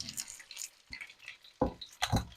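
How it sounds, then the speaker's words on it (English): Tempura-battered snow goose pieces frying in hot oil and being stirred, with a few short scrapes and sizzling bursts up close in a brief, quiet stretch. "I'm going to put one more, maybe two more pieces in here, and I'm going to stir"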